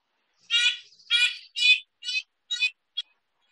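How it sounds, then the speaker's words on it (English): Red-breasted nuthatch at a feeder with raw suet gives a series of six short, nasal, repeated calls, each note clear and fairly close, the last one brief, with silence between. "Red-breasted nuthatch."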